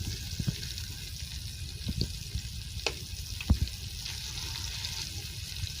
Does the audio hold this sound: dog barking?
no